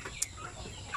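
Native chickens give two short, faint clucks about a second apart against a quiet farmyard background.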